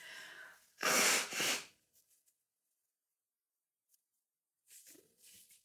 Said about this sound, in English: let me hurry and blow my nose really quick.